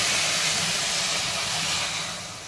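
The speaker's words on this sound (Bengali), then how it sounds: "অল্প করে একটু জল দেবো, নাহলে খোসাটা তো সেদ্ধ হবে না।" Water poured into a hot pan of gourd peels sets off a loud, steady, close sizzling hiss that slowly fades toward the end, with no one talking.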